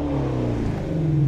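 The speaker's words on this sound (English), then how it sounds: "Courtesy rev for the entrance." A BMW E92 M3 engine revs up briefly, a loud, close, rising mechanical growl with layered harmonics that climb in pitch over about a second.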